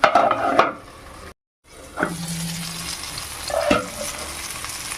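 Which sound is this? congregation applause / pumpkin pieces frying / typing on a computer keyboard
pumpkin pieces frying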